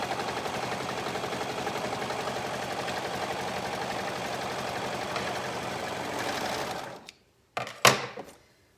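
A sewing machine stitches a shirt side seam with a fast, steady mechanical chatter for several seconds, then stops, followed by a couple of brief clicks and rustles up close.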